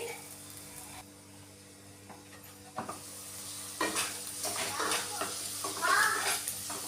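Onions cooking in a pan over a low flame sizzle softly, with occasional stirring scrapes and utensil knocks that grow busier toward the end, over a faint steady hum.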